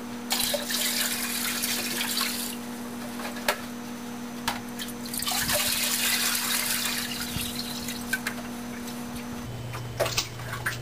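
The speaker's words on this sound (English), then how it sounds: "Now I will just continue putting water into my tank again." Water streams into a betta fish tank in two long pouring bursts, a hissing splash over a steady electrical hum, with brief ticks and knocks between pours.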